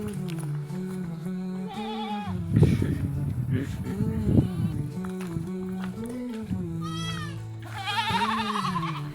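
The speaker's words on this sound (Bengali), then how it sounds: "দুধ খোয়াতে হবে আমাদের বাচ্চা ছাগলগুলোকে" Baby goats bleat at a village homestead, with wavering cries rising now and then over a steady low hum and people talking nearby.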